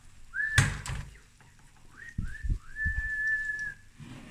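Someone in a kitchen whistles a few rising and held tones, including one long sustained note, with light clatter of cooking utensils between them.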